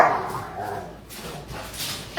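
Pet dogs bark in a home kitchen during meal prep, several fairly close, uneven yaps and whimpery barks over a busy, cluttered background.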